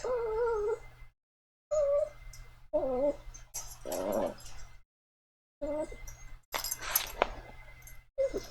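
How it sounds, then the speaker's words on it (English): Anxious little dog whimpering in the game Niche: repeated high, wavering whines in short bursts separated by brief silences, with a low steady hum beneath. "This little dog, she's just so anxious."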